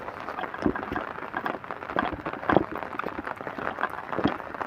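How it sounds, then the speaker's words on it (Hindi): Heavy rain pours steadily over an Italian town during a flood, with a dense continuous hiss broken by a few louder splashing drops, fairly close and without voices. "देखें बारिश अपनी आबोताब से लगी हुई।"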